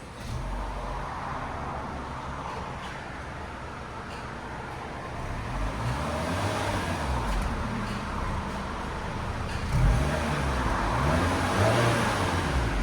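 Stock 2024 Honda Civic Sport with its 2.0L four-cylinder engine and factory exhaust, a steady low idle drone that swells slightly as it is revved, held back by the rev limiter, with no talk.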